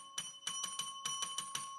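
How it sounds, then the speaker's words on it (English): A small bell is struck about eight times in quick, slightly uneven succession, each ring bright and sustained, heard up close with no talking. "I gotta ring the bell."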